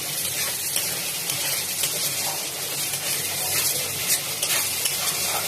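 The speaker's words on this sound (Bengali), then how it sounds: "এবার এটাকে ভালো করে কষিয়ে নেব।" Pointed gourd dolma filling is sautéed and stirred in a pan, giving a steady, close sizzle with continuous scraping and stirring throughout.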